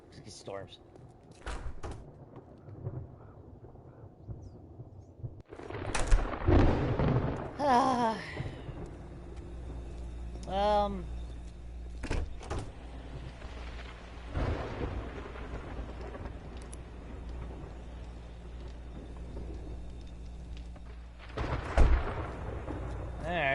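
Thunder rolls and cracks during a storm in 7 Days to Die on PS5, with loud rumbling bursts over steady rain and ambient noise while people talk.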